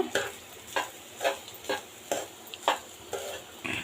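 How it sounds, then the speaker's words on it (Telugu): Salt and garam masala are stirred into street-style chicken fried rice, with rhythmic spatula scrapes against the pan about twice a second over a soft sizzle. "అలాగే మనకి టేస్ట్కి తగ్గ సాల్ట్ అలాగే గరం మసాలా ఇవన్నీ వేసుకొని బాగా కలిపేసుకుందాము"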